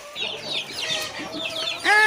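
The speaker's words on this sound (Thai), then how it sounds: "อันนี้จะเป็นไก่ พ่อพันธุ์แม่พันธุ์ของเรา นะคะนี่พ่อพันธุ์แม่พันธุ์ ที่อยู่ในข้อผสมเล้าผสมนะคะ" Breeder hens and roosters in a mating coop cluck and murmur together in a close, continuous jumble, ending on a louder, sharper squawk.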